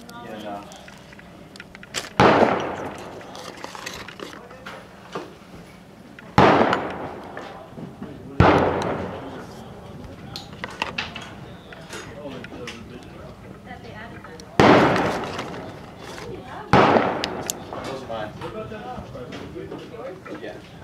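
Gunshots from a revolver at a shooting range ring out as loud, sharp single reports at irregular intervals, about five in all, each with a short echoing tail, amid background murmurs of people.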